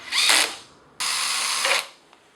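Two short bursts of a power driver whirring as screws are driven to fix a template into a door jamb, the second burst longer, close and fairly loud with quiet pauses between.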